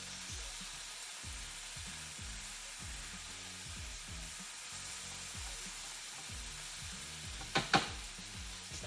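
Salmon fries in a pan with a constant soft sizzle, overlaid by a repeating rhythmic stirring or scraping, with two sharp clacks of a utensil near the end.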